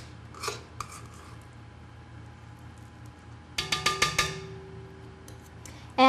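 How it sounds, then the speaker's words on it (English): A spatula scrapes around a mixing bowl of creamed butter, giving a quick run of five or six sharp clinks and taps near the end, with a couple of softer knocks earlier over a quiet kitchen hum. "About halfway through, it's always a good idea to scrape the bowl."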